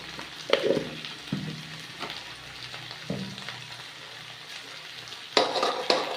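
Salt and turmeric spices sautéing in a pan for a mixed summer vegetable dish, a low steady sizzle broken by a few sharp stirring scrapes and clinks of a spatula, close up with no talking.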